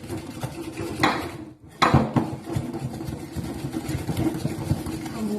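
Mascarpone, egg yolk and sugar being mixed in a bowl, with repeated scraping and clinking of a utensil against the dish, a brief pause midway, then steady stirring continuing close up.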